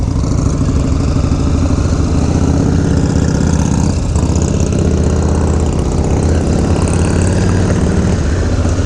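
Motorcycle engine droning steadily and loudly throughout a ride with a companion in Wisconsin, a continuous low rumble with rushing wind and no pauses.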